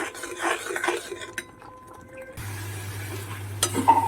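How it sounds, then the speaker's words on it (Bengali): A spoon stirs a thickening date jaggery mixture as it boils, with quiet scraping and clinks against the pot, then a steady low hum with a couple of brighter knocks. "এটাকে এবার ভালো করে ফুটিয়ে ঘন করতে থাকবো"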